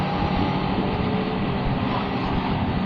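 Big bike motorcycles ride past on a road, a loud steady engine roar that holds across the whole stretch with no talk over it.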